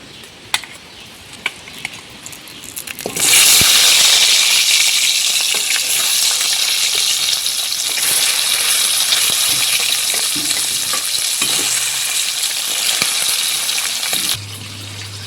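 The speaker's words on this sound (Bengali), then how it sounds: "বাকি মাছগুলোকে একই রকম করে ভেজে নেব" Hilsa fish pieces drop into hot oil and set off a sudden loud, hissing sizzle that starts after a few quiet seconds with faint clinks. The sizzle then holds steady and close with small spatters before it drops abruptly near the end.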